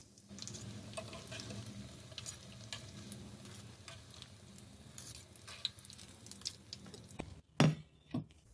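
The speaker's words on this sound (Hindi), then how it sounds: "दूसरी तरफ से भी हम इसी तरीके से फ्राई कर लेंगे" Aloo tikki potato patties frying in oil, a low steady sizzle with faint crackles throughout, ending in a few louder clatters and scrapes as they are moved in the pan.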